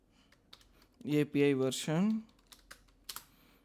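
Typing on a computer keyboard, with scattered clicking keystrokes close by before and after a short burst of speech.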